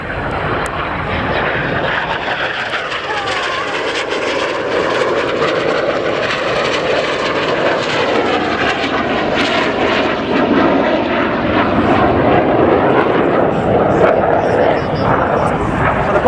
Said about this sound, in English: They're going to perform the opposition barrel rolls.